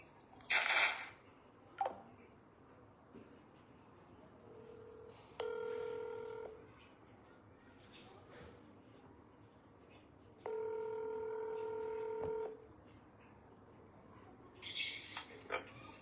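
A phone number is dialed with DTMF keypad tones, two long runs of steady beeping tones separated by quieter background and a few scattered clicks and bumps.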